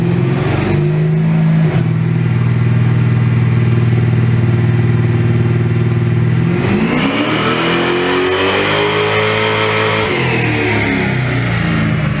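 A 1980 Trans Am V8 roars at full throttle on a dynamometer with a 150 nitrous shot, holding a loud, steady high-rpm howl before backing off and revving back down in pitch, with no talk.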